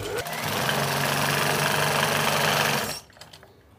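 An electric sewing machine stitches the folded hem of an elastic pant, a fast, even, close mechanical whir with rapid rhythmic clatter that runs steadily for about three seconds and then stops abruptly.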